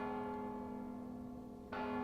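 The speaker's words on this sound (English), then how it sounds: "you can hear as the bell rings" Bell tolling in the stealth video game Mark of the Ninja, a sustained ringing tone fading slowly before a second strike sounds near the end, clear and alone.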